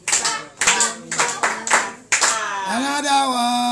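Family members clap in a few bursts at a home cake cutting, close and uneven, while voices chant and talk over and between the claps.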